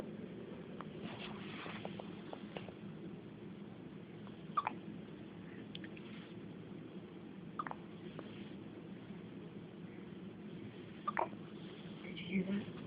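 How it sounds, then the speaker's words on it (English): A newborn baby about two days old hiccuping, several tiny soft hiccups spaced seconds apart in a quiet room with faint background hum. "Did you hear him? The little tiny hiccups?"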